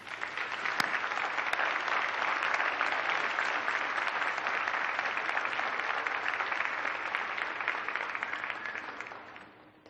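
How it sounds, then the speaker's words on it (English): An audience at a 2017 graduate commencement ceremony at Fitchburg State University applauds graduates' parents, families and spouses. The clapping is steady and dense, holds for about ten seconds, then fades at the end. "give them a well-deserved round of applause"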